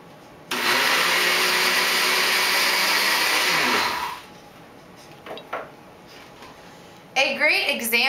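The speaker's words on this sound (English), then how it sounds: "We will demonstrate a different vegetable by pureeing peas." A kitchen blender purees peas, a loud, steady close whir running for about three and a half seconds before cutting off, followed by quiet handling sounds and a voice speaking.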